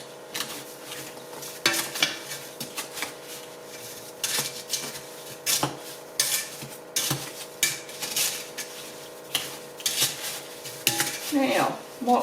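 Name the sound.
spoon stirring cherry jam in a pot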